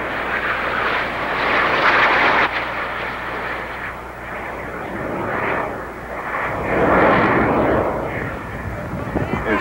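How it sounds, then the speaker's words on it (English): Formation of nine jet aircraft performing at an airshow, a loud sustained roar of jet engines swelling and fading as the planes pass, with crowd and commentary voices underneath. "Let's watch the nine aircraft going in nine different directions and the solo coming in the middle."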